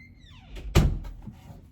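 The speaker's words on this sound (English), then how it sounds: "I'm going to close my door." A door swings shut with one solid thud, preceded by a brief creak and followed by faint rattling in a quiet room.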